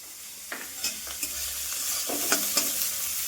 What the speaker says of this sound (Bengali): বাস এটা ভালো করে ভাজা হোক।